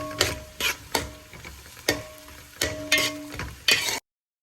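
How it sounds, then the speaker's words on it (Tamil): Garlic, ginger and curry leaves being sautéed in a pan for a Kerala-style chicken curry, heard as five or six distinct scraping stirs over a light sizzle, fairly close. "கறிவேப்பிலை, அதுக்கப்புறம் அந்த ஸ்டிக்கு எல்லாத்தையும் போட்டு கொஞ்சம் நல்லா வதக்குறாங்க."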